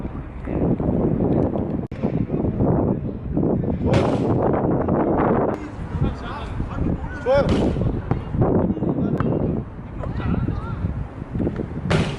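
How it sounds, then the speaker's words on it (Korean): Strong outdoor wind buffets the microphone in loud, continuous low rumbling gusts, with people talking throughout at an outdoor basketball court. "바람이 심해서 정말 촬영 오래 걸릴 것 같아요 바람 너무 심해요"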